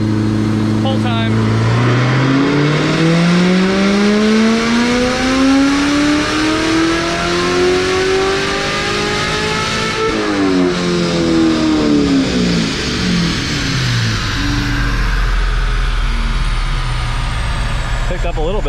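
A Corvette Z06 engine on a dyno winds up in one long, loud pull, pitch climbing steadily to a peak before the throttle drops off and the revs fall away, with a brief moment of talk just before it starts.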